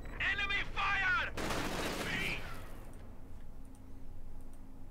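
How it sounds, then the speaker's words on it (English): Enemy gunfire in the Company of Heroes 2 video game, a burst of loud close shots followed by a fading rattle of distant fire, mixed with shouted in-game voice lines at the start. "enemy fire!"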